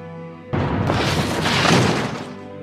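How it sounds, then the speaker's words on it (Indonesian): Artillery explosions from the WWII Battle of Bastogne in winter erupt as a sudden, loud, roaring blast that rumbles for about two seconds before fading out. "Ledakan artileri terdengar di setiap penjuru, menghancurkan apapun yang dilalui."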